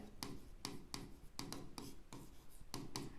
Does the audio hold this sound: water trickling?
no